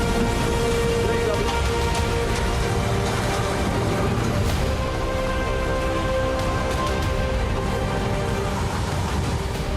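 Heavy August rain falls as a dense, steady hiss and patter on surfaces, loud and continuous throughout, with a voice faintly mixed underneath.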